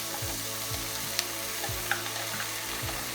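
Peas frying in a pot, a steady close sizzle with a low repeating rhythmic scraping and a couple of faint clicks.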